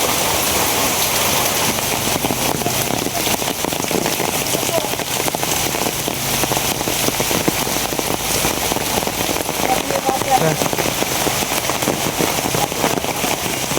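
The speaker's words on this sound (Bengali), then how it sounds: "সকালবেলা থেকে বৃষ্টি শুরু হয়েছে" A loud, dense downpour of heavy rain hammers down steadily for the full fourteen seconds with no letup, heard while out fishing in the storm.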